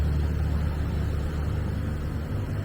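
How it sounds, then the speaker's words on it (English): A noisy truck passing through a small town street in Hannibal, Missouri, a loud continuous low engine rumble that holds steady throughout. "Noisy truck."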